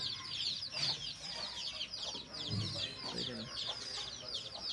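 Hens and roosters on a poultry farm during vaccination day cluck and chatter continuously, a dense, close flock sound with overlapping calls and no pause.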